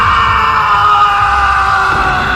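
A man screams over the phone in a horror story, one long, loud, sustained yell with a slightly tinny quality.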